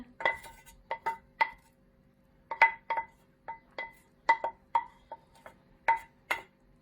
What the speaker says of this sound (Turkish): Sıyırıyorum tencerenin içi.